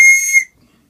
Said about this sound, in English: I also make wooden whistles